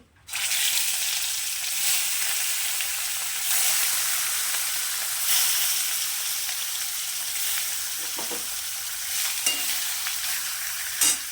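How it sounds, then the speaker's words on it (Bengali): Marinated rohu fish sizzles steadily in hot oil, a loud continuous crackling hiss with occasional faint clinks, no voices. "এবার যে মাছটা আমি ম্যারিনেট করে রেখেছিলাম সেই মাছগুলোকে ভেজে নেব"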